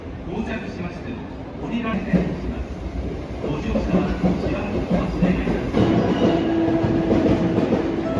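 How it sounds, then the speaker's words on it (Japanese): The limited express Kinosaki train pulls in at platform 31 of a station, a continuous rumble with clickety-clack wheel beats that grows steadier, and a voice speaks over it. "31番線に折り返し特急城崎5号が到着しました。"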